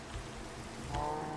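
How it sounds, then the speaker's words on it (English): Rain falls in Minecraft, a soft, steady hiss of drops pattering over low ambient tones throughout. "Of all the times to start raining, you choose now."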